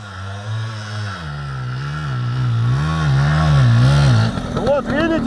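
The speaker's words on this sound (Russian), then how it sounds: "Вот видите, как бы мотор вроде просаживается, но при этом ты просто крутишь ручку, и он все равно заезжает, потому что полуавтомат." A Yamaha Big Wheel 80 semi-automatic motorbike strains up a snowy forest slope, its loud, close engine note wavering up and down as it bogs under load, then turning rougher and sputtering at the end.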